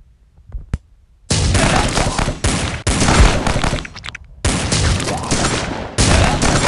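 Gunfire in the video game Dead Ahead: Zombie Warfare comes in loud, dense bursts of rapid shots after a quiet start, broken by brief gaps between volleys.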